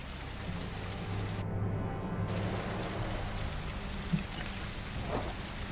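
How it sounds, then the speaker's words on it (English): Heavy, steady rain in the video game The Isle pours down, a dense hiss with a low rumble underneath and an occasional sharper patter. "That's some loud rain."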